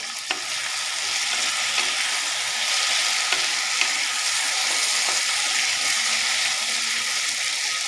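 Potatoes frying in an uncovered pan for a Bengali lunch dish, a steady bright sizzle with occasional soft stirring clinks, close and continuous with no talking.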